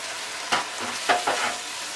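A few scraping stirs and faint sizzling as dried lotia fish cooks with Malabar spinach in a pan, with brief louder stir strokes near the half-second and one-second marks, close and moderately quiet.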